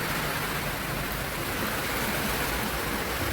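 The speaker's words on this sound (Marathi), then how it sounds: "खूप छान असा पाऊस झाला" Steady, dense rain hisses evenly over a farm throughout, a broad wash of sound with no voices.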